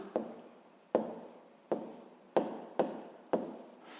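A pen writes numbers on paper at a desk, making six short scratchy strokes, each starting with a sharp tap and fading, quiet and close.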